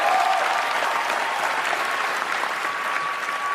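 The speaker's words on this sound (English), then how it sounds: "Nice applause from the half of the room" Audience applause at the Oscars ceremony, a broad continuous wash of clapping from a large room that holds steady throughout, with no speech over it.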